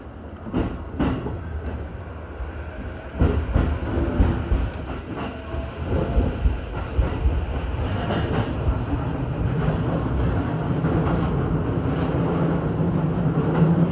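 A passenger train runs along the Ome Line toward Okutama, heard from on board as a steady low rumble with rhythmic wheel clatter over rail joints, growing slightly louder and denser after a few brief knocks near the start.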